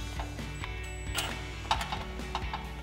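A ratchet on a 15 mm socket with an extension and swivel tightening an exhaust clamp clicks in short, quick bursts of metallic pawl ticks, close and fairly quiet, with no speech.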